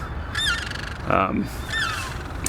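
Birds calling in the morning along a shoreline: several loud, clear squawking calls in sequence, one deeper and honk-like in the middle, with open outdoor ambience between them.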